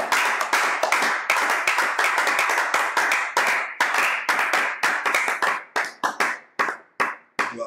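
A church congregation claps loudly and rhythmically in praise, a steady run of sharp, close hand claps that thins out near the end, with no cheering voices standing out.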